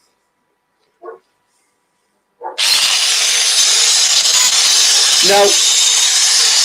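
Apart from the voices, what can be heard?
Proxxon long neck grinder cutting on a locked lathe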